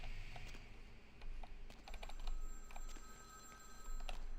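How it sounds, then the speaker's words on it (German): A telephone rings inside the Vampire: The Masquerade – Bloodlines video game, a steady electronic tone repeating over a background of clicks and low ambient rumble. "da klingelt irgendein Telefon her gerade"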